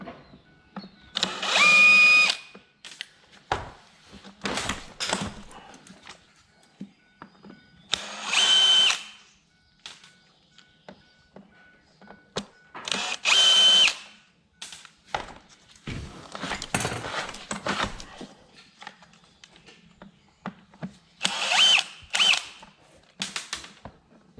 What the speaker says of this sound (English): first things first, I got to take out these screws here, and then I got to take out these screws here